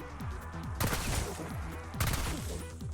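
Rapid bursts of automatic weapon fire from a Black Ops 6 Zombies game, aimed at the Sentinel artifact, come in two long sustained volleys, loud and close with a continuous backing of game noise.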